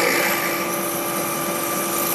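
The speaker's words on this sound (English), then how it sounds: "head up to 1600 RPM, and we're going to get ready to drill here" A milling machine spindle runs at 1600 RPM, ready to drill, giving a steady, high, continuous whine that holds evenly through the short clip with no talking.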